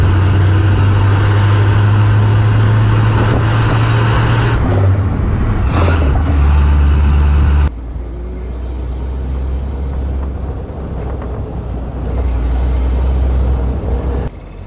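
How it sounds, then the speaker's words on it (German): A 1939 Mercedes 770 open touring car pulls hard in second gear, its big engine a loud, steady, deep drone that shifts pitch and eases slightly partway through, heard close without talk. "Merkst du das Drehmoment, wie er hier anschiebt im zweiten Gang? Hörst du das? Also man hört diese wahnsinnig kraftvolle Maschine."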